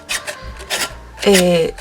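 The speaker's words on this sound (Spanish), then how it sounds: "Entonces con una lima de uñas, también valdría una lija de grano fino, vamos a comenzar" A nail file rasps along the edge of a decoupaged recycled glass jar, with a few short scraping strokes followed by a louder, longer rub near the end.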